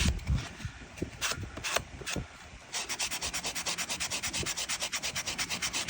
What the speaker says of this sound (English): the nice thing about using like a sander like this is that the grit is really fine